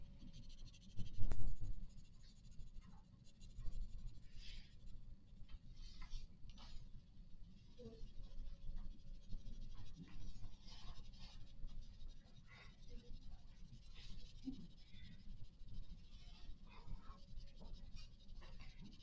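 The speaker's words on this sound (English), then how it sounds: "I'm going to bear down some with my pencil, and I'm going to make it darker as I come down." A pencil shades on paper, pressing harder to darken the tone, a soft continuous scratchy rasp with short strokes, close and quiet, with faint background handling noises.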